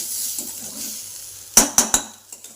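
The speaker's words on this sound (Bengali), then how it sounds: "সেই ভাজাটা একটু মানে ভেজে নিচ্ছি" Leftover fried food is re-fried in a pan in a home kitchen: a soft background hiss gives way to three sharp metallic knocks of a utensil against the pan, close and distinct.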